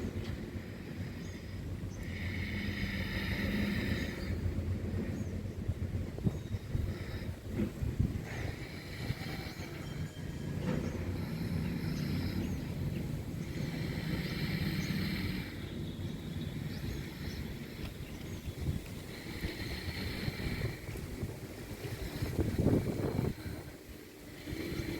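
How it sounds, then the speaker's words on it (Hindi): Ujjayi pranayama breathing, drawn slowly through a constricted throat, makes a soft, hissing rush that swells and fades in long, repeated cycles, close and steady with no talk. "उज्जाई प्राणायाम जो है वो थ्रोट के थ्रू लिया जाता है"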